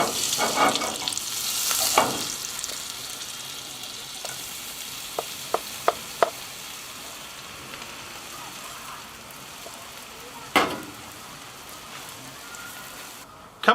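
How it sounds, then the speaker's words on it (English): Breadcrumbs tossed and toasted in a pan over a barbecue give off a steady soft sizzle, broken by scattered sharp clicks and scrapes as the pan is shaken, with no talking. "we're going to put the breadcrumbs in, and you have to constantly toss them"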